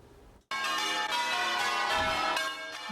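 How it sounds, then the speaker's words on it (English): Church bells ring out across Charleston as Mother Emanuel church reopens, a loud sustained peal of overlapping strikes entering abruptly after a brief quiet moment and continuing in dense, resonant layers. "Bells rang throughout Charleston as the church known as Mother Emanuel reopened its doors for the first time"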